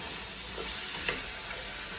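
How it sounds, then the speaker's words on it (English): Vegetables for artichoke soup sauté in a hot pan, a steady close sizzle with a faint stir or scrape partway through, and no voices. "I'm gonna give these guys a quick saute."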